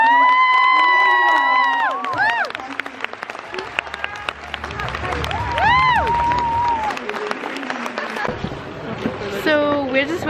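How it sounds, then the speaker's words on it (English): An audience at a fashion show claps and cheers with scattered whoops, mixed with loud voices and tonal sounds that rise and fall over the crowd noise. "the biggest round of applause"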